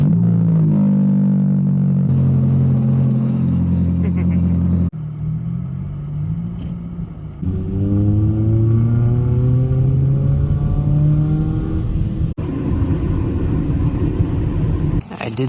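A 2011 Honda CR-Z with a swapped K20Z3 engine drives on a street, its engine rumbling and revving through rising and falling pitch sweeps as it accelerates and shifts, steady and fairly loud throughout.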